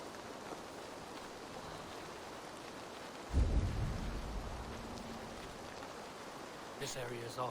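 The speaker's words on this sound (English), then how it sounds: "And it's raining again?" Steady rain falls throughout a video game level, broad and soft, and midway a deep rumble of thunder rolls in and lingers under the downpour.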